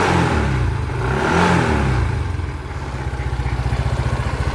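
A Yamaha Mio i 125 scooter engine revs loud and close, rising and falling before settling into a rapid, pulsing idle putter.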